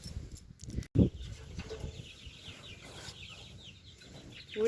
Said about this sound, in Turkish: Ben şimdi civcivlere geldim.